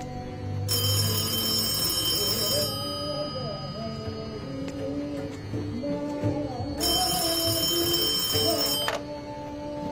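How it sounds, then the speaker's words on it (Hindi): A telephone rings with bright electronic bell bursts in two separate spells, moderately loud, while a voice talks and music plays underneath. "अब इस फोन की घंटी तभी बजती है जब तुम्हारा फोन आता"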